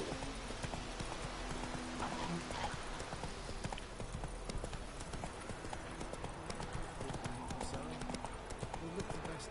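Roach, a horse in the video game The Witcher 3, gallops with dense rapid hoofbeats over a loud, busy game soundscape, and a voice talks over it.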